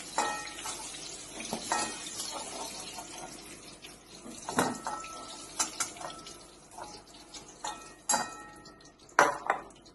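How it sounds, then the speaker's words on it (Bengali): Potatoes crackle and fry in oil in a wok while a metal spatula repeatedly clatters and scrapes against the wok in irregular knocks. "মাছের এই তেলের মধ্যেই আমি আলুগুলো ভেজে নেব।"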